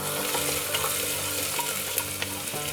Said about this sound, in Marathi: कांदा परतून घ्यायचा आहे।